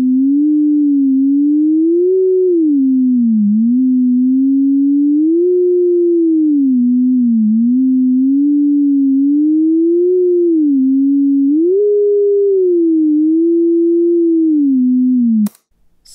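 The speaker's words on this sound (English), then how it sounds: "It sounds like a drunk Pop Goes the Weasel." A synthesized Pop Goes the Weasel melody rendered as a smooth pure tone with linear interpolation, sped up so the notes glide woozily into one another, steady and alone until an abrupt stop.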